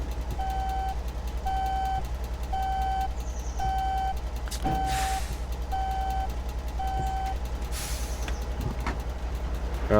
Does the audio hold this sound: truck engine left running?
yes